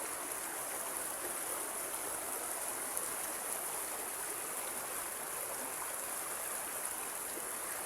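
Water rushes and babbles continuously, a steady broadband flow like a clear river running close by at Bluerock in Rodriguez, Rizal, with no voices.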